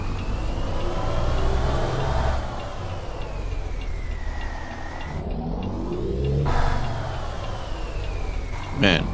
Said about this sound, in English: Man, love the sound of that engine.